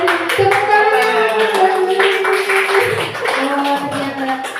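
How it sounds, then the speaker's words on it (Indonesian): Hands clap in a school classroom session, with loud, uneven clapping from a small group mixed with voices and chatter. "Tepuk tangan."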